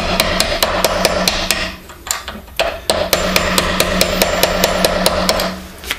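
A hammer strikes a cold chisel into metal in a steady run of sharp, ringing blows, close and loud, with a brief pause midway before the rhythmic hammering resumes.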